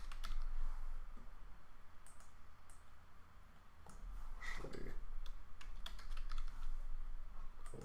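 Fast, light clicking of keys on a computer keyboard, steady and close but fairly quiet over a low room hum.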